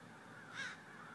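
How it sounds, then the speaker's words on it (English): In a video game, a single faint crow caw rises briefly out of soft ambient background noise, distant and isolated, with no voices. "Boy, I wonder if the birds are fake."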